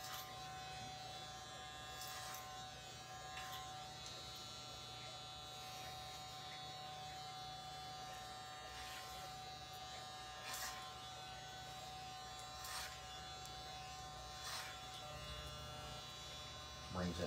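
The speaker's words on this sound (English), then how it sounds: "Bring the side, shear over comb, or I mean clipper over comb." An electric hair clipper works over a comb on a man's short haircut, a steady buzzing hum running throughout at low, even volume, with faint comb clicks and snips and little else.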